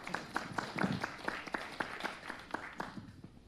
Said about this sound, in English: And we can give the audience a round of applause.